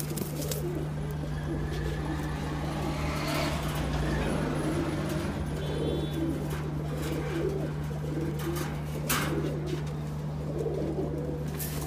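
Rajshahi high-flying Giribaz pigeons coo softly and steadily over a constant low hum and background traffic, with a few sharper bird calls breaking through.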